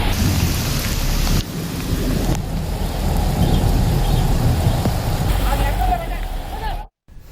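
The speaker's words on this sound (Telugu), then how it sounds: "అటు బాపట్ల జిల్లా చీరాలలోనూ ఉరుములు, మెరుపులతో కూడిన వర్షం కురిసింది." Heavy rain pours down during a thunderstorm in Chirala, Bapatla district, a dense loud hiss of rain striking surfaces with deep rumbles of thunder rolling underneath, continuous and close before cutting off abruptly near the end.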